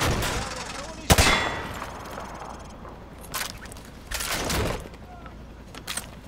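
Gunfire from Call of Duty Modern Warfare 2 shooting through light cover: one loud sharp shot followed by a few fainter bursts and scraping impacts, with background game ambience.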